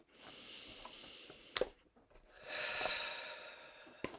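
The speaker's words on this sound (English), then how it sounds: "Let's take a deep breath." A slow, deep breath in and out, quiet and close, drawn during a calm meditation with no talking, with a couple of brief sharp nasal clicks between the inhale and exhale.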